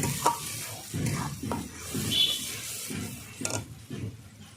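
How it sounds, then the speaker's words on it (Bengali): Ginger-green chili paste and tomato paste stir-frying in a pan for a chicken and kohlrabi curry, a close sizzle under repeated spatula scrapes and stirring strokes. "কাঁচা লঙ্কার আদা বাটাটা দিয়ে দিলাম একই সঙ্গে দিয়ে দিচ্ছি টমেটো পেস্ট করা ভালো করে আমি কষিয়ে নিচ্ছি"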